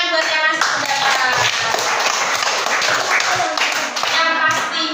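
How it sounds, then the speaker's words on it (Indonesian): Fourth-grade schoolchildren in a classroom clap their hands in a steady, loud burst lasting several seconds, with children's voices mixed into the applause. "tepuk tangan buat yang masih pendapat"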